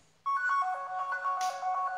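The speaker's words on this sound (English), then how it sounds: "you can hear my phone ringing" An Android phone rings at full volume after a remote ring command, a bright repeating electronic ringtone that starts abruptly and plays loud and close with no talk over it.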